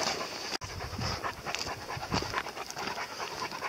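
Dogs pant hard and steadily on a forest hiking trail, a close, continuous rhythm of quick breaths with no voices over it.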